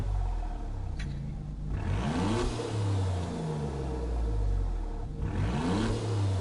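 Citroen car engine in Gran Turismo 7, revving up and down through repeated rising and falling sweeps, loud and close, with a steady mechanical drone between the pulls.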